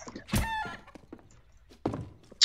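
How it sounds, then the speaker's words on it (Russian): A chicken in the video game CS:GO lets out a short burst of clucking, followed by a few sharp thumps and a brief squawk, with faint game noise between. "я курочку нечаянно убил"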